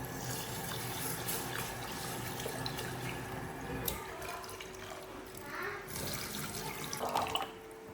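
Rice being washed by hand in water at a rural Chinese kitchen sink, with continuous sloshing and running water punctuated by sharper splashes and clinks, heard close and fairly quiet.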